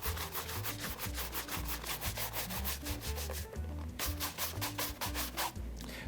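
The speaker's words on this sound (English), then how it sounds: "Once you're done applying, buff off with a horsehair brush." A horsehair brush buffs leather dress shoes after an application of Saphir Pate Luxe wax polish, giving steady, loud, rhythmic brushing strokes that continue with only a brief pause partway through.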